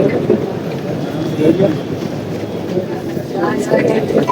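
A metro train rumbles steadily nearby, a low continuous roar with people talking over it.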